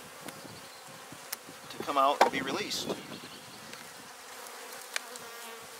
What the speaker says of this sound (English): I'm gonna shake a few more bees